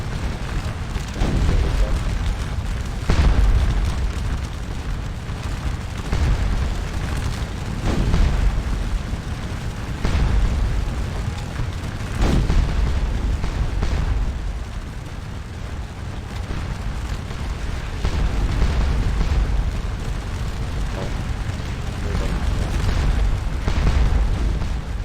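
Artillery fire in the video game 10 Mile Waterloo, repeated deep booms every couple of seconds over a continuous low battlefield rumble, heavy and fairly loud throughout.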